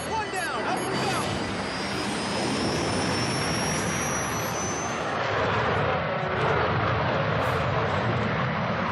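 A Rafale fighter jet landing at Ambala airbase, a loud, continuous broadband jet engine roar with a rising whine, steady for the full span with no talk.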